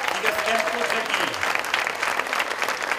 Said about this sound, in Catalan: Fortíssim aquest aplaudiment, sisplau, per la gent que fa possible vetllades com aquesta